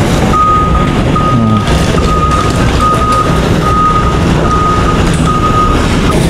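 A truck reverses with a steady run of evenly spaced electronic beeps, loud and close, over a constant rumbling diesel engine at a building demolition site.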